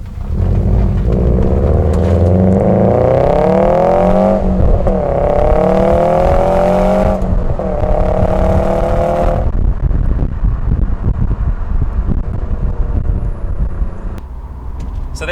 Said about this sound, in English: So I want to see how it goes recording my exhaust note.